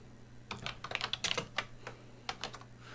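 Keys clatter in an irregular burst of quick taps as a BASIC program is typed on a Color Computer keyboard, fairly close and moderately quiet, with a short pause in the middle.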